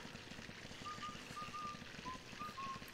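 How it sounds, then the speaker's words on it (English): A thin, wavering whistle in the video game Luigi's Mansion drifts in short separated phrases over a steady rumbling background and a faint ticking pulse, sounding eerie and distant. "This whistling is creeping me out."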